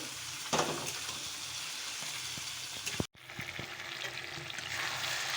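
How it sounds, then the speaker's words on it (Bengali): Chicken sautés and fries in a pan with a steady, dense sizzle throughout, broken by a brief silence partway through and light stirring clicks. "চলো চিকেনটাকে ভালো করে কষিয়ে নেবো"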